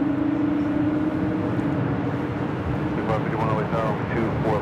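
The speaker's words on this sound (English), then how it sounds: "Breeze Airbus A220-300 now rolling down to 24 left" A Breeze Airbus A220-300 airliner rolls down runway 24 Left at LAX, a steady, close jet rumble with a low droning tone throughout; a faint voice comes in over it near the end.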